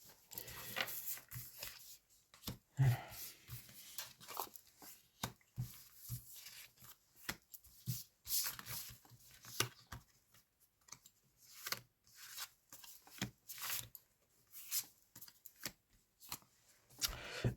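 Playing cards are shuffled and dealt in a series of quick, crisp flicks and snaps, close and fairly quiet, with irregular bursts and short pauses and no talk.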